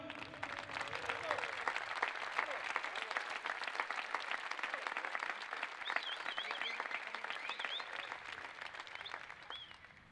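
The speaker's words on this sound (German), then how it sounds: "bitte ich jetzt nochmal von euch allen um einen kräftigen Applaus" A crowd gives loud, sustained applause at a football club's end-of-season player farewell event, with some cheering and whistles mixed in, and the clapping tails off at the end.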